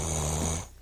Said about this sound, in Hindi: इतनी तेज धूप में भी कितने आनंद से खर्राटे मार रहे हैं।